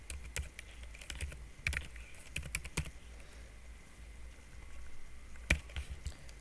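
Keystrokes tap out in loose bursts on a computer keyboard during Python coding, close and fairly quiet with pauses between runs and no talk.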